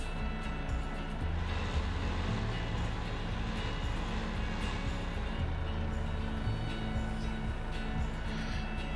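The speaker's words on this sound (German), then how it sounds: "Mal gleich den Motor anlassen." The truck engine in Landwirtschafts-Simulator 15 runs at a steady, continuous rumble the whole way through. No distinct start-up is audible, and there is no speech.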